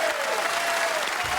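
Studio audience clapping on a televised football talk show, a brief, dense burst of applause held at an even level, with no voices over it.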